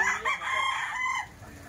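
A stag gamecock crows once, close and clear, a drawn-out cock-a-doodle-doo lasting just over a second before fading into quiet background.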